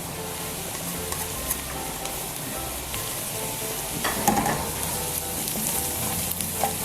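Steady sizzling and crackling of spices frying in light brown garlic-ginger paste in hot oil, with occasional clinks and stirring sounds close by.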